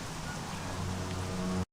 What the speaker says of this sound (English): Why do I hear rain?